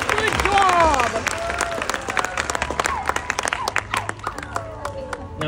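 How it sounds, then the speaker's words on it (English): An audience at a Six Flags sea lion show applauds the trainer, a loud burst of dense clapping that thins into scattered claps, with a crowd murmuring and a voice speaking over it. "please give her a big round of applause"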